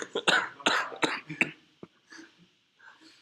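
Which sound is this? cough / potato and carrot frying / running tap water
cough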